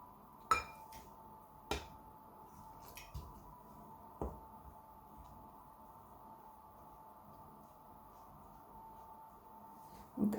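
A spoon works pizza dough for a salmon pizza in a bowl, giving a few soft, sparse clicks and knocks against the bowl amid near-silence, with a faint final tap at the end.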